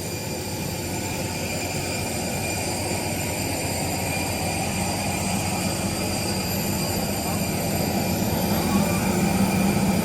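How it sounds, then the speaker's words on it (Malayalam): A jet airliner sits at the airport in Ayodhya before passengers board, giving off a loud, unbroken engine roar and whine that stays constant and close throughout. "ഇവിടെ ജെറ്റൊക്കെ ഉണ്ട് കേട്ടോ."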